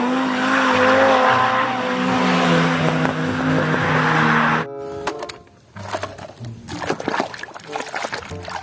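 A toy race car's engine whines steadily and loudly for several seconds, then cuts off into scattered clicks and rattling movement.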